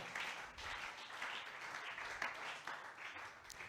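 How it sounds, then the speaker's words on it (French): A church congregation at a women's seminar evening service applauds, with steady, fairly distant clapping and cheering from a crowd that carries on through the whole stretch. "Acclame pour la parole de Dieu."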